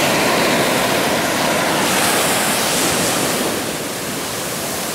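High ocean water surging into a coastal parking lot, a loud continuous roar of washing surf with no pauses, easing slightly toward the end.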